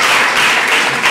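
Church congregation applauding together at a closing worship service, a dense, steady wash of clapping filling the whole moment with no break.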